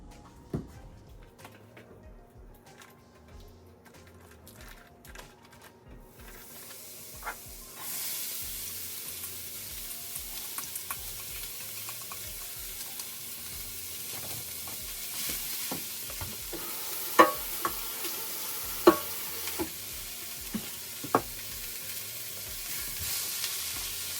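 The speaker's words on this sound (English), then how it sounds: "Then we're going to saute it in 1 whole stick of plant butter." Celery and onions sauté in a whole stick of plant butter in a hot skillet. The sizzle starts quietly, then swells into a steady, bright hiss about a third of the way in, with sharp pops and stirring clatter scattered throughout.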